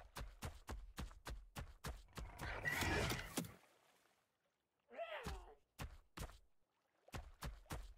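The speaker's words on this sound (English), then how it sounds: "Spooked that horse." A spooked horse in the Ark video game neighs loudly, set among steady clip-clopping hoof thuds with a short snort or whinny midway, close and clear.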